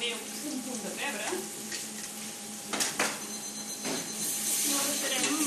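Escarole sautéing in a pan for xató soup, a steady close sizzle with a few sharper clatters of stirring partway through and a person talking.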